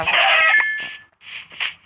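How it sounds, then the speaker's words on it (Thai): Chicken clucking in a survival video game, a few short cackling calls in separate bursts with brief gaps between them, close and fairly loud with no talk over it. "มีไก่มีไก่ด้วย"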